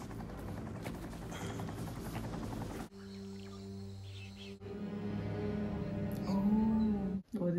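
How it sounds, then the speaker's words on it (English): Helicopter from the 1987 film Predator, heard in a movie soundtrack: a steady low droning hum over the film's mixed background sounds, with scene cuts and a rising tone near the end, moderately loud. "That's a chopper."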